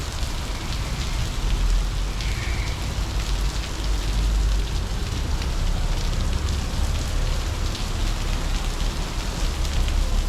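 Heavy rain pours steadily onto a street in Taipa Village, Macau, and drums on an overhead rain guard, a dense, continuous wash of close, loud noise with no voices.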